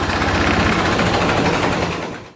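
A 1917 International Model F truck engine runs steadily and loud, with a rough, rapid low-end firing pulse and a dense mechanical clatter, cutting off at the end.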